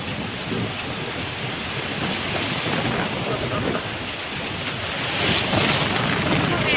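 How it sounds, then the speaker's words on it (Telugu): Steady, heavy evening rain with wind pours down with a broad hiss, swelling slightly louder near the end, with low rumbling thunder underneath. "వర్షం పడుతుంది"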